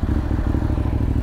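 Motorcycle riding through the streets of Meran, engine pulsing in a fast, steady low throb close to the microphone, with clatter and wind noise and no talking.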